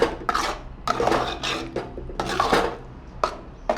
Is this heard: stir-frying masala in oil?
yes